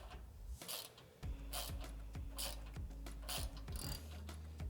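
Nutsert tool tightening a nutsert into the steel frame for a Mopar Rubicon rear bumper on a 2018-2021 Jeep JL, giving a rapid series of close ratcheting clicks and mechanical turning bursts in a steady rhythm.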